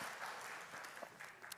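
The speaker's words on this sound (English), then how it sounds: "Give Lily a round of applause for helping Daddy." Church congregation applauding a young child after a sermon interruption, a short burst of steady, fairly faint clapping from a room of people with no talking over it.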